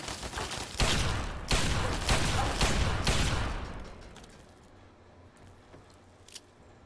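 Automated turret fire in Fallout 3, near a White House East Wing: four loud rapid bursts of gunfire in close succession that fade into quiet ambience with a faint later click.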